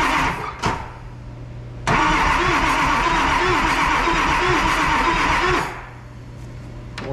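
A Ford Powerstroke diesel engine is cranked over by its starter, one steady grinding, rhythmic cranking run of about four seconds, loud and close, framed by quieter idle-like rumble and brief clicks before and after.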